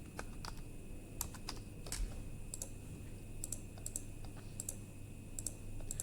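Login details are typed on a computer keyboard: a quiet, close run of irregular key clicks in small bursts over a low, steady room hum.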